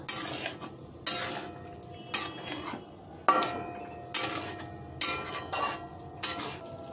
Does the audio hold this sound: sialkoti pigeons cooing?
no